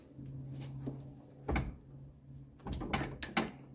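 A 1983 Mercedes 300TD car door is swung open and shut to test its freshly greased door strap, giving several close mechanical clunks and latch clicks, with a heavier thud midway and a cluster of knocks near the end.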